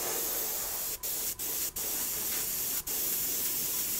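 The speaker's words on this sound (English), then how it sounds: "now I can hear the paint coming out" Spray paint hisses from a can onto an Air Force 1 sneaker, a steady close airy rush broken by four brief gaps where the nozzle is released.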